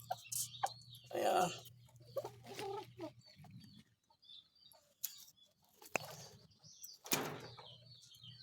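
A laying hen clucks in short bursts close by, with soft rustling and a brief spoken word among the calls.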